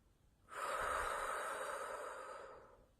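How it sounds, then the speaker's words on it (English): A single deep, slow inhalation drawn through the nose during a guided meditation, close and soft, lasting about two seconds before fading, with no talking over it. "Take a deep breath."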